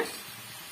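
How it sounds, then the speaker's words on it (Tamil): Country chicken curry masala sizzles with a quick stir in a pan, a brief, close, steady hiss with no voices. "நல்லா வந்து மிக்ஸ் பண்ணி கொடுத்துக்குங்க"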